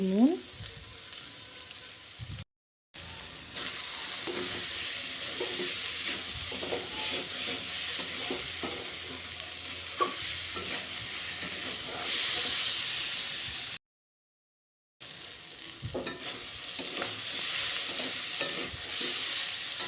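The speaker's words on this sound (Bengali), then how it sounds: "মিষ্টি কুমড়োটা প্রায় ভাজা হয়ে গেছে" Sweet pumpkin frying in a pan while being stirred, giving a steady close hiss and sizzle with scraping stir strokes throughout, broken by two short silent gaps.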